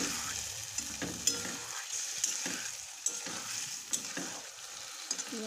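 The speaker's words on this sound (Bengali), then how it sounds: "তখন আলু দিয়ে দিচ্ছি, দিয়ে মশলা ভালো মতন কষে নেব।" Potatoes and spices sizzle steadily in a hot pan while a spoon scrapes and stirs in repeated strokes, close and clear with no talking.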